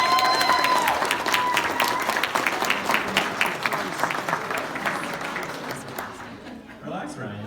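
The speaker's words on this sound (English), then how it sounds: "Big round of applause again for the maid of honor" Wedding guests give the maid of honor a round of applause, steady clapping with some cheering that gradually fades away, a voice speaking briefly at the start and again at the close.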